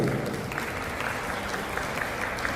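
Guests at a hotel wedding ceremony give a round of steady applause during the ring exchange, continuous clapping in a large hall under a faint room hum.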